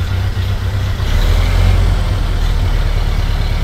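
A low, rumbling 1929 Ford Model A roadster engine idles steadily and loudly up close, its deep throb continuous with no voices.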